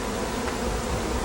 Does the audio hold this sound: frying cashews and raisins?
no